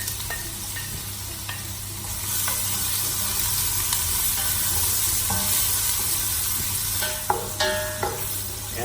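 Ginger sautéing in hot oil for a Filipino chicken tinola, a continuous close sizzle swelling louder after a couple of seconds, with scraping stirs and a few sharp clacks of utensil on pan near the end.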